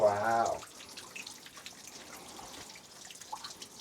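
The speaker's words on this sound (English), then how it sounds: "just the dripping, dripping, dripping down this water, down this wall" Water dripping down a rock wall at a spring in a desert oasis in Big Bend Ranch State Park, faint scattered drips and trickles after a brief burst of voice.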